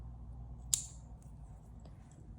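A pair of scissors snips through a crochet yarn tail once, a crisp, close cut in an otherwise quiet room.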